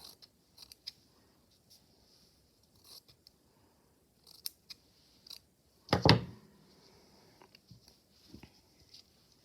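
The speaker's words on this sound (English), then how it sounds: "Just going to trim that off a little bit." Scissors trim small fabric snippets from a handkerchief for strip piecing, giving a few quiet, close snips and clicks, with one louder, sharper cut near the end, between faint handling noises and near silence.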